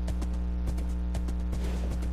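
A golden-armored horse trots in Minecraft, with a steady clip-clop of hooves over a constant low droning background.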